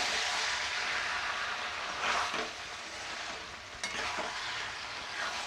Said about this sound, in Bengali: সোয়াবিনটাও দিয়ে দিচ্ছি এর মধ্যে দিয়ে নাড়ছি ভালো করে